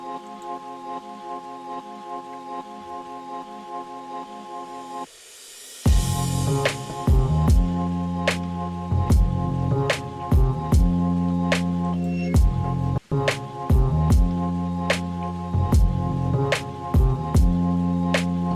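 Steady rain patter blended into a relaxing music track, with soft drops and drips running under sustained tones and a rhythmic beat that enters partway through.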